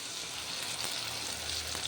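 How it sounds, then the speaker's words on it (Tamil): Onions and tomato frying in oil in a pan, a steady close sizzle with fine crackling spits throughout. "நல்லா எண்ணெயிலேயே சலசலன்னு வதக்குது பாருங்கள்"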